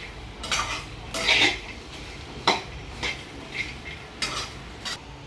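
Okra being stirred as it dry-roasts in a hot kadhai over a gas flame, with a spatula scraping and clanking against the metal in irregular bursts, close and moderately loud, with no one talking.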